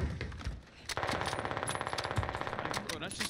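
Rapid automatic gunfire from a Warzone match, a steady loud burst of closely spaced shots running through most of the clip after a brief opening crack, with faint voice traces in the mix.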